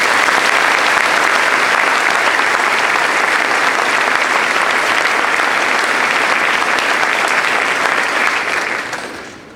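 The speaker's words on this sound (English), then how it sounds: "How about another round of applause for Ms." An audience at a veterans' stand down event gives loud, sustained applause, a thick continuous roar of clapping that holds steady before tapering off at the very end.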